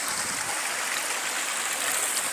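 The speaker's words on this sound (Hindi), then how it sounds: "ये रहा झरना, यहाँ पर पानी पी लेते हैं थोड़ा" Water from a waterfall and stream rushes steadily and loudly, a dense continuous hiss and splash with no breaks or voices.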